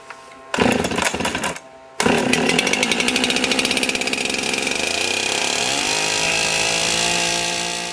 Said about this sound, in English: Now I will pull the starter rope until it fires